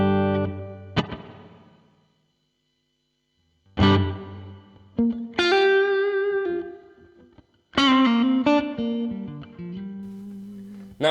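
Blues guitar played through a Fractal amp modeler with a large spring reverb set to a long decay, heard as separate picked notes and chords with a ringing tail. The phrases come in bursts with a silent pause, and no one talks.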